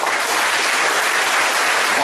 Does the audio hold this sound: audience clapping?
yes